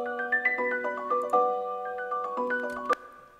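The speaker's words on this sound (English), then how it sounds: "I added these small rolls to the piano melody." A synthesized piano melody built in FL Studio, with small quick rolls of notes climbing and falling between sustained tones, played alone and clear for a few seconds.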